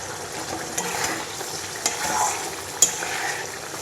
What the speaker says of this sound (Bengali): আদা জিরে টক দই সব কিছু একসাথে করে ভালো করে তেলটা ছেড়ে এসছে কষাচ্ছি